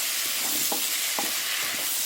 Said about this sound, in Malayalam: ഇതിനെ നന്നായിട്ട് ഒരു 2 മിനിറ്റ് നമുക്ക് നന്നായിട്ട് വഴറ്റിയെടുക്കാം.